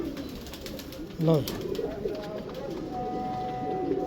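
Indian Lakhy pigeons coo in a loft, with one close, louder call near the start and softer cooing after it, while someone speaks a word over them.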